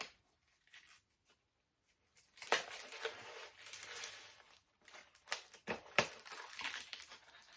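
A comic book firmly taped into its shipping packaging is worked loose, giving a quiet start and then busy crinkling, crumpling and tearing of tape and wrapping in close, irregular bursts with no talk.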